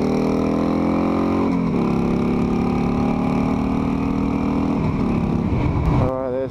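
A Harley-Davidson 883 Sportster motorcycle engine roars loudly and steadily at full throttle on twisty roads, with pitch holding and shifting between gears and wind rush throughout, no speech heard.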